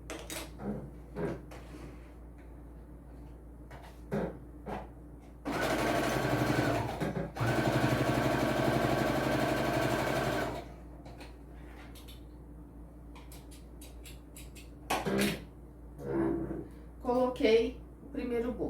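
Sewing machine stitching a safety seam along the bottom of a multipurpose travel wallet, two sustained close runs of whirring stitches separated by a brief pause, with scattered handling clicks and bumps before and after.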